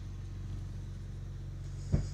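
A BMW E38 7 Series with an automatic gearbox, abandoned for two years, eases slowly out of its spot. A steady low engine rumble carries throughout, with a single sharp click near the end.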